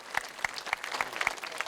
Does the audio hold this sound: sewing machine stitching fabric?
no